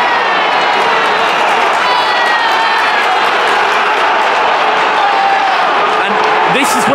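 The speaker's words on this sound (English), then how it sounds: "And Wolves fans go crazy." Wolves football fans in a stadium during a match against Brighton let out a loud, sustained crowd roar of cheering and shouting that fills the whole stretch.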